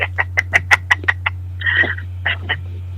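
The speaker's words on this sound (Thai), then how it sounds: "นกกาละเวกเป็นยังไง เปิ้นว่าเสียงมันม่วนนะครับ" A kalawek bird calls in a quick run of sharp, clucking notes, then gives a longer squawk and two more short calls, over a low steady hum.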